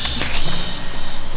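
A cheap toy remote control helicopter flies close by, its small rotor giving a steady high whirring buzz that runs throughout without a break.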